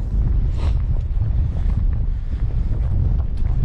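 Steady coastal wind buffets the microphone at a local Danish sea-trout fishing spot at high water, a constant loud low roar with faint wave wash beneath and no voices.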